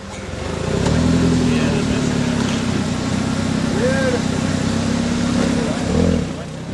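A modified-class Toyota 4x4 with a 3S-GTE 2-litre turbo engine drones steadily at an off-road obstacle challenge, a continuous loud motor note with a brief surge near the end, and people talk over it.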